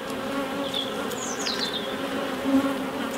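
Honeybees buzz steadily at a queen cell inside a hive, a close, continuous droning hum with a brief louder swell near the end.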